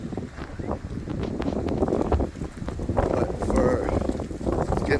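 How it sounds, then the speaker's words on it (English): Wind gusts across an open rail-trail, a steady broadband rush with rising and falling surges throughout, fairly loud and close to the microphone. "It's getting a little windy"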